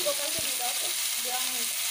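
Diced potatoes frying in hot oil in a wok give a dense, constant sizzle, close and steady throughout.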